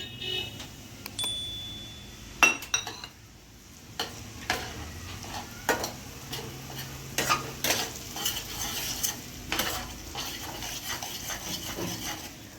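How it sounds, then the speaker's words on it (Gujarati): Semolina stirred in hot ghee in a pan gives a soft steady sizzle, with a spoon scraping and clinking against the pan in irregular strokes, close and moderately loud. "આપણે સૂજી નાખી દઈશું."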